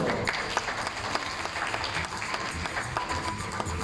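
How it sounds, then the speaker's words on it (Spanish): Steady applause from an audience at an academic panel discussion, a dense wash of many hands clapping at moderate loudness without pause. "Fuerte aplauso."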